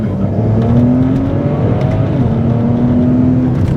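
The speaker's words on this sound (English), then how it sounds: "Driving the 135i Coupe" A BMW 135i coupe's turbocharged engine revs and pulls hard as the car accelerates, its pitch climbing, dipping at a gear change, then rising again, loud and close.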